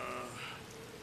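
Rain falling in the Ys VIII: Lacrimosa of Dana game, a soft, steady hiss of drops that stays faint and even throughout.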